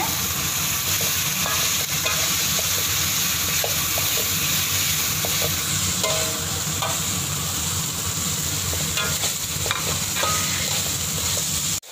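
Finely chopped shallots fry in hot oil for sambal tumis, giving a steady, close hiss and sizzle with occasional stirring scrapes and clinks throughout and no talk.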